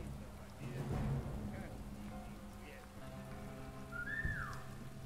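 A short rising-and-falling whistle sounds once near the end, used to lure an enemy in the stealth video game War Mongrels, heard faintly over a rain-like ambient wash and low game hum.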